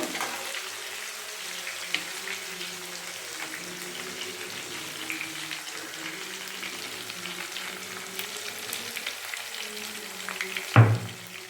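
Oil frying in a pan for a tamarind-style curry with sundakkai, a soft continuous sizzle heard close and fairly quiet, with faint background hum and a sharp clatter near the end.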